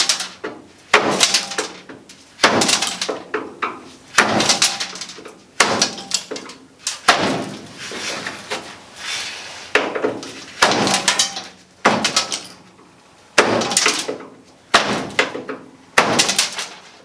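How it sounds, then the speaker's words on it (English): Repeated sharp knocks of a screwdriver driving old rubber seal out of a car body during a restoration, about a dozen loud percussive hits in irregular bursts with brief pauses between, close up and without talk. "just knock it out with a screwdriver"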